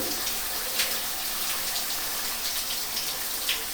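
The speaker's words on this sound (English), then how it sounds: "I pour in the middle, like in a funnel, the water a little bit and let it soak" Water poured onto clothes to soak them in a hostel shower, a steady close hiss of running water with small splashy bursts, alone and with no talk.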